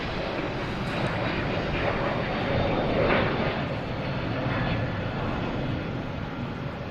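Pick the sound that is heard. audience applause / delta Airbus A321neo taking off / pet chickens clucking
delta Airbus A321neo taking off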